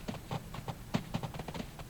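Horse hooves clip-clop in the My Horse video game, an irregular run of soft, quick thuds at a steady trot, moderately faint with no talk over them.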